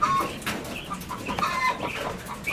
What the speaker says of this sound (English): The quail are just pecking it up too.